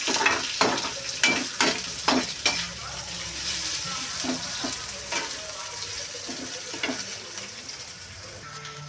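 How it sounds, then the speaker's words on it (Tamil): Pirandai (adamant creeper) being sautéed in a pan, with steady frying sizzle and a series of sharp scraping, clacking stirs of a utensil against the pan, denser in the first few seconds, then a softer continuous sizzle with occasional knocks. "நல்லா வதக்கி விட்டுட்டே இருக்கணும் ஃப்ரெண்ட்ஸ்"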